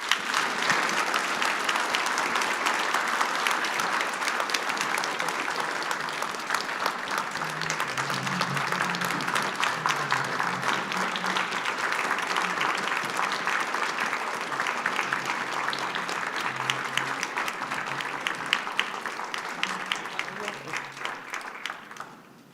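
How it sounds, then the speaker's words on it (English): An audience gives a sustained round of applause for a speaker at a Japan-U.S. alliance event, dense steady clapping throughout with brief voices underneath. "please join me in giving Mr. Shikata a round of applause"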